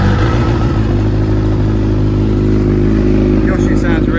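A 2014 Suzuki GSX-R1000 L4 sport motorcycle engine runs loud and close at a steady idle, with a deep, continuous throb.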